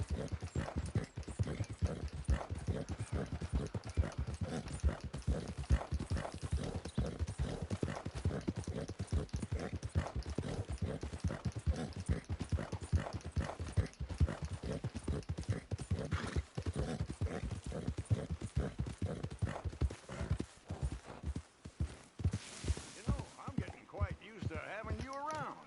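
Horse hooves clip-clop steadily through Red Dead Redemption 2 Online, close and continuous with occasional whinnies, as someone talks over much of it.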